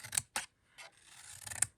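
Stainless steel scissors cutting through material, a few short crisp snips and rasping slides, close and quiet.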